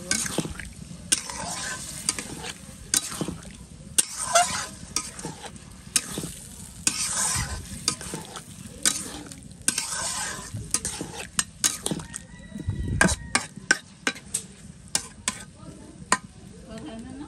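Spiced food being stirred and fried in a covered-then-opened pan, a low ongoing sizzle broken by frequent sharp scrapes and clicks of a spoon against the pan, irregular and close, with a heavier scraping burst near thirteen seconds.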